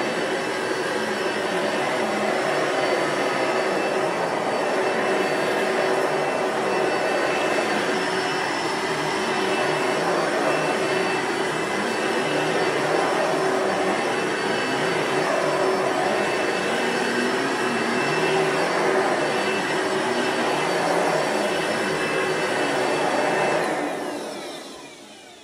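A Kenmore Power Center vacuum cleaner runs on carpet with a loud, steady whining roar and a constant high tone, close and uninterrupted, before the motor winds down at the very end.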